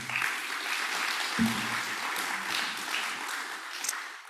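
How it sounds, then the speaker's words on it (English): Conference audience at a Climate Week NYC panel applauds Dr. Mohieldin, a soft, continuous spread of clapping from many hands lasting the whole stretch, with a brief low thump partway through. "So let's give another round of applause to Dr."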